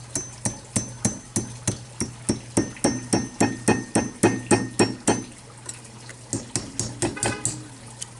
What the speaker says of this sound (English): I'm gonna hammer it so it